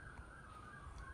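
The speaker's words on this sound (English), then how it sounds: "Sorry for the police sirens" Police sirens wail faintly in the distance outdoors, a steady whining tone held through the whole moment with no speech over it.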